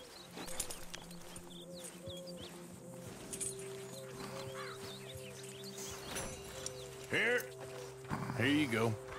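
A horse in the video game Red Dead Redemption 2, with hoof clip-clops and brief snorts or whinnies running through steady game sounds and birdsong, mostly under talk.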